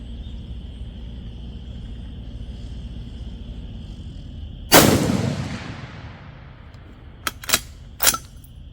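A Bear Creek Arsenal BC10 bolt-action rifle in 6.5 Creedmoor fires Hornady ammunition: one loud, sharp report with a fading tail, then two quieter clicks and knocks from the bolt. No one speaks.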